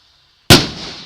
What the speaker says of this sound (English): here's a big, massive rocket one to enter you guys into this video